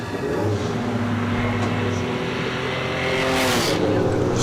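A green Holden LH Torana race car works its way around a slippery hillclimb hairpin, its engine a continuous loud rumble with brief rasping bursts as it goes through the bend.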